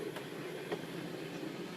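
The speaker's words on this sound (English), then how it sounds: "And here we are on that little train again that I was on at the very beginning." A small mountain train runs toward the Schilthorn in Switzerland, a steady low rumble of rail travel with a couple of faint clicks from the wheels on the track.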